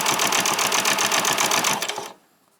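A sewing machine stitches a seam on a pair of ruffled shorts in a fast, steady, loud mechanical whir and rhythmic clatter close by, stopping abruptly after about two seconds.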